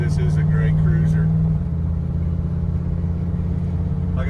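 Low rumbling V8 drone from a 1969 Shelby GT500 Convertible, 428CJ engine, cruising down a road on original tires; a held engine tone drops as revs ease off, close and steady, with someone talking over it at first.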